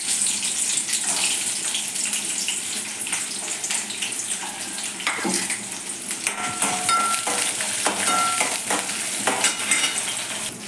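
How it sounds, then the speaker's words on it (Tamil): Steady hiss of small onions and green and dried red chillies sautéing in hot oil, with occasional clinks and scrapes of a stirring spoon against the pan. "வெங்காயம் கொஞ்சம் வதங்கிடுச்சு"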